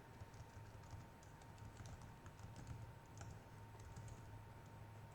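Typing on a computer keyboard during a web-design lecture: a faint, quick, uneven patter of key clicks over low background hum, with no talk.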